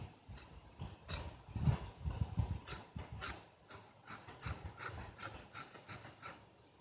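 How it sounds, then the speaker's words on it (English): Back spine of a bushcraft knife scraped along wood in repeated rasping strokes, a quiet rhythmic series of scratchy rubs close up with no talking. "now with that 90, you should be able to scrape wood"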